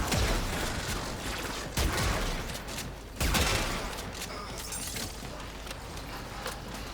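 Repeated bursts from the Archoplasma weapon in Warframe, firing during a mission with sharp loud blasts around the start, middle and later, over a steady wash of game noise.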